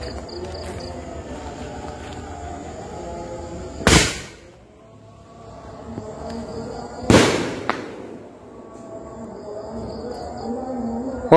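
Firecrackers set off outdoors at night during the Takbiran celebration give two sharp, loud bangs a few seconds apart over a steady background of chirping insects.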